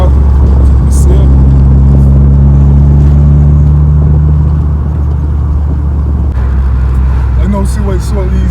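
Volkswagen MK4 Bora engine with a newly installed exhaust, a loud, steady low rumble with droning harmonics that rise and fade, close by throughout, with people talking over it.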